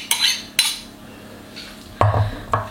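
Melted onions being spooned into a potato gratin dish, a few sharp clinks and scrapes of a spoon against the dish separated by quiet gaps.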